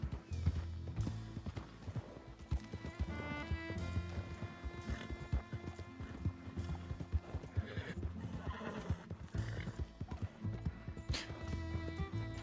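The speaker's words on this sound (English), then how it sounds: "This horse is like running out of steam." Horse clip-clopping along at a steady pace with occasional whinnies in a video game, set under a continuous busy game soundtrack with music throughout.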